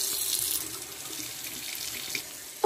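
Water runs steadily from a tap into a sink, a continuous close hiss and splash that holds for a few seconds before a brief clunk at the end.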